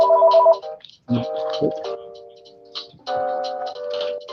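A phone rings with an incoming call, its bright electronic ringtone sounding in loud bursts with pauses between them, close by, alongside a few low knocks.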